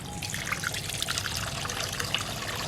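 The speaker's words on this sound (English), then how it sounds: "Hold on, I'm gonna wash my face." Water running from a tap while someone washes their face, a continuous close trickle and splash with bright droplet sounds scattered through it.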